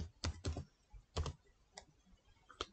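Keys clicking on a PC keyboard while typing into the start search: a few separate clacks in short bursts, near and quiet, with pauses in between and no voice.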